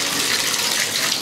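Water gushes steadily into a Ridgemonkey 10-litre water container, a close, continuous rushing and splashing with no pauses and no talk.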